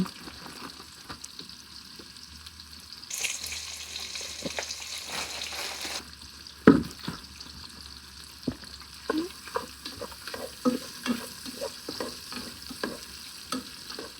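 Okra chunks stirred around a pan as they brown for jambalaya, giving a soft steady sizzle with repeated scraping clicks and stirring knocks, a brief louder hiss burst midway, and no talk.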